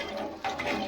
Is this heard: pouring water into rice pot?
yes